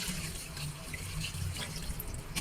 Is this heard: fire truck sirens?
no